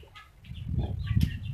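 Chickens on a village farm in Bangladesh, with soft, scattered clucks and chirps over a low rumbling background that grows slightly louder. The birds sound fairly faint and somewhat distant.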